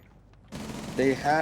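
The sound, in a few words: gunfire exchange in a video game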